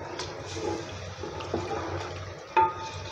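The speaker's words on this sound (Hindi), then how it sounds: "इसमें मैं पानी ऐड कर दूंगी।" Water is poured into a pot of sautéed lentils and spices for dal pulao, splashing and gurgling in short uneven bursts, with a sharper splash near the end.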